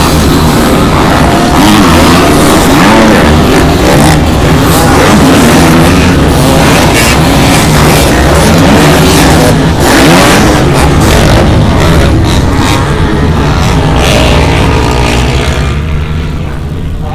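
Loud, continuous snarl of several Kawasaki motocross motorcycles racing in a pack at a live motocross event in Brandon, engines revving and rising and falling close by without pause.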